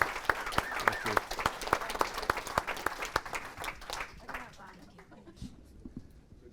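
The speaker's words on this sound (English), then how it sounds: "So give an applause for them" Audience applause, a burst of steady close clapping from a seated crowd that thins out and fades over several seconds.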